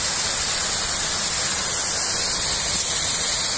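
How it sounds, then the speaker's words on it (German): A large body of water rushes in a steady, loud hiss like a waterfall or fast stream, continuous and close, with no voices over it. "Guck mal, da ist Wasser. Ganz viel Wasser."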